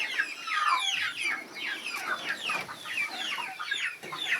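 Several free-range chickens cluck and chatter continuously, their overlapping calls close by and fairly loud, with no talking.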